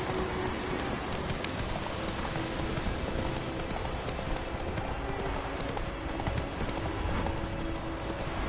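Roach the horse gallops in The Witcher 3, hooves clip-clopping in a steady continuous rhythm, close and loud, over a constant rain-like hiss of ambient noise.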